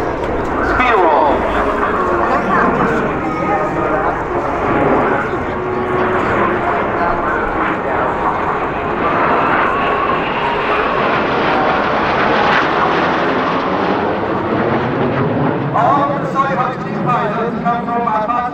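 A BAE Hawk T.65A jet of the Saudi Hawks, Saudi Arabian air force, roars past in a speed roll at the Sanicole airshow, a loud sustained engine rush that shifts in pitch as it passes, with an announcer talking over it.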